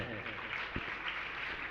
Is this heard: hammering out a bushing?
no